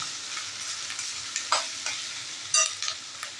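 Vegetables stir-fried over a high gas flame for paneer chilli, giving a steady close sizzle broken by a few sharp scraping stirs near the middle and end.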